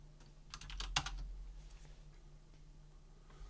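Quick bursts of computer keyboard typing entering a login and password, a short cluster of crisp, close key clicks followed by a few scattered taps over a low steady hum.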